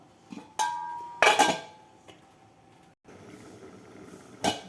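A metal lid clanks onto a cooking pot of okra tamarind stew, a few sharp metallic clinks and a ringing clatter against a quiet kitchen background.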